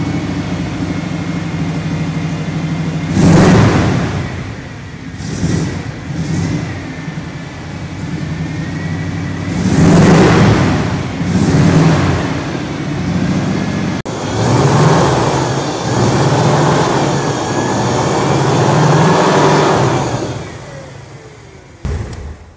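A 1978 Jeep CJ7 Golden Eagle's 304 V8 engine revs repeatedly, loud and close, with several deep throaty bursts rising and falling over a rumbling idle.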